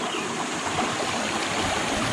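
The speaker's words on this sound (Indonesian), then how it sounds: "jembatan kedua ini merupakan aliran sungai sekarang di bawahnya nih ya, ada aliran air" Flowing river water passes beneath a second bridge near Plunyon Kalikuning, a steady broadband rush of stream noise held at an even level throughout, with no talk.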